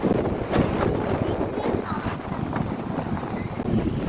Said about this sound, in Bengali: যা হাওয়া দিচ্ছে না তোমাদের একবার দেখাই